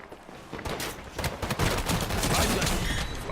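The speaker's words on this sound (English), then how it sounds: "Check the spread on that shotgun." Shotgun fire in a video game: a rapid burst of loud, dense gunshots stacking into a continuous volley, close and harsh, with no speech over it.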